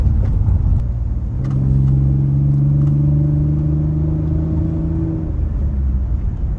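A Mitsubishi Eclipse driving along a short dirt road stretch, its steady engine drone and tire rumble rising into a held, harmonic whir as it pulls along, close and continuous with no talk.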